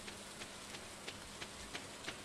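Rain during a storm in the video game Stardew Valley, a faint, steady wash of falling rain with small regular ticks of drops, with no one talking over it.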